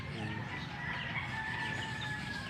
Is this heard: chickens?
yes